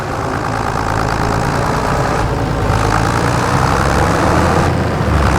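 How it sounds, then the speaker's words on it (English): Tractor engine in Farming Simulator, a worn machine in need of repairs, labouring as it climbs over a road in a snowy winter farm setting; a steady, loud low engine drone runs unbroken throughout. "Ooh, this tractor."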